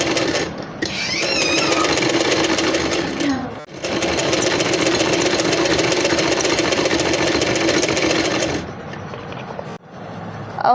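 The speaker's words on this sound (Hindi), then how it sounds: "और हम इस पर एक पैर की सिलाई लगा लेंगे।" A sewing machine runs fast and steadily, stitching collar fabric backed with buckram, with a short pause near the start and another near the end; the whirring motor stays loud and close throughout, with no one talking.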